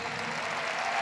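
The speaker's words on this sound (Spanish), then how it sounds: "Fuerte ese aplauso" A brief burst of steady, dense clapping from a church congregation, loud and continuous with no voices standing out.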